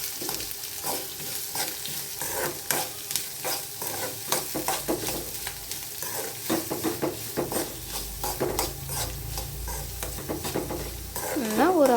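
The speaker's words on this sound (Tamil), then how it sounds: "அப்புறம் வெங்காயம் கொட்டி நல்லா வணக்க வேணும்." Onions sauté in a pan with mustard seeds and chana dal, a constant sizzle broken by frequent sharp spatula scrapes and clinks against the metal, close and lively, with no talking.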